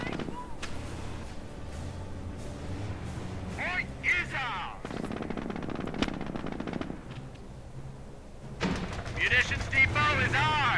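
An MG42 machine gun fires in Company of Heroes during a Wehrmacht match, with bursts mixed among other battle noise and vehicle sounds, under steady commentary.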